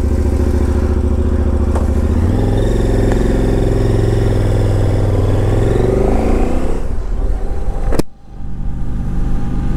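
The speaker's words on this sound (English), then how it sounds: "I love the way this bike sounds." A motorcycle engine runs loud and close, revving up through rising gear pulls as the bike rides off, then drops with a sharp click near the end before settling into a steady drone; no one speaks.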